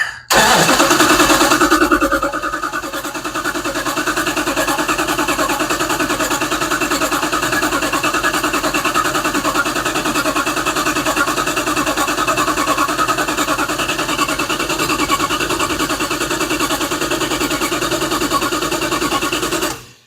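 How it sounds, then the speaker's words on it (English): Car engine with suspect lifters cranking over and then running: a loud burst of cranking for about two seconds, then a steady, dense engine roar holding close and continuous to the end, with no talking. "Let's crank it over again once here."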